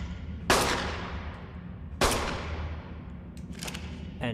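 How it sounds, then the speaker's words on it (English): Two sharp gunshots from a player's gun in Ark Survival Ascended, each a loud crack with a long decaying tail, spaced about a second and a half apart, followed by faint clicks, with no talk. "So usually I'll try to use my gun to get their attention."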